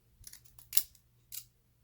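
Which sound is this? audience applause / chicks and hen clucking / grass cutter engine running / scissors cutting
scissors cutting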